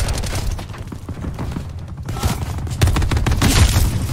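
Continuous loud gunfire from Call of Duty Black Ops 4, dense bursts of automatic fire from a VKM 750 light machine gun, rattling steadily and swelling louder toward the end.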